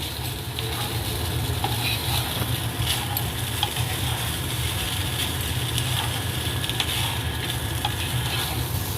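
Food for a homemade biryani fries in a pan with oil. A continuous, even sizzle and crackle runs close and loud throughout, with occasional stirring scrapes and no talk.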